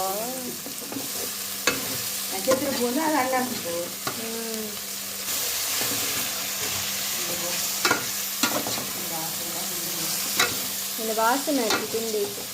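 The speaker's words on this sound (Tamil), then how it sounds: "இங்கே வெங்காயம் பொன்னிறமாக வந்ததுக்கு பிறகு இஞ்சி உள்ளி எல்லாம் இடித்து வச்சுருந்தோமே அதெல்லாம் போட்டு மிக்ஸ் பண்ணுறோம்." Onions frying in a pan with crushed ginger and garlic, stirred with steady scraping strokes over a constant close sizzle, joined by a few sharp clinks.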